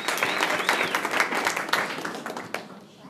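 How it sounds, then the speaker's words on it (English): An audience of high school staff claps for the science team, a dense burst of applause that fades toward the end, with a voice faintly underneath. "Let's give them a round of applause."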